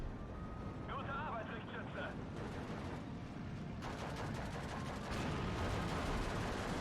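Gunfire in the Steel Division 2 war game crackles as scattered distant bursts and shots under a dense battlefield rumble, near-continuous and moderately loud.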